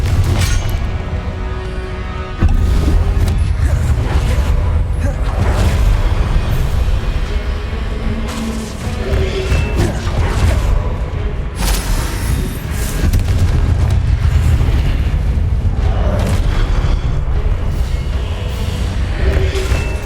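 Heavy booming blasts from the Confringo fire spell in the game Hogwarts Legacy come in quick succession with a dense, loud rumble. Sharper bursts break out over a continuous battle din.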